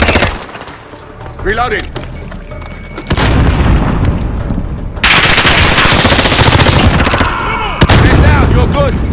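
Video game combat erupts in rapid automatic gunfire and heavy booms, loud and close, with bursts stopping and restarting while a voice calls out between them.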